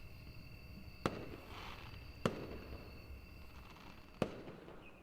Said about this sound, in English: the sound of the first rocket ascending, its explosion painting a circular pattern in the sky